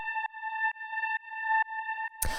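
An FM synth pad from Ableton's Operator built on two detuned sine waves plays a clean, steady tone with a rhythmic pulse repeating about every half second, cut off by a brief burst of noise at the end.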